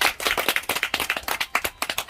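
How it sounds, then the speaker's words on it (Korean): Audience claps in a brisk, uneven burst at an outdoor lecture, individual hand claps clearly audible and close, with no talking over them. "박수."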